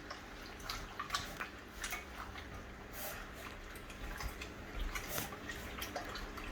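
Vinegar pours at an outdoor campsite cookout in a soft, uneven trickle with drips and splashes, continuous and fairly close, against light background noise.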